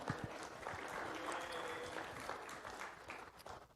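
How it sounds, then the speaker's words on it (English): Church congregation clapping, a quiet, fairly distant round of applause with a few sharp individual claps and murmuring voices mixed in. "yeah, you can clap."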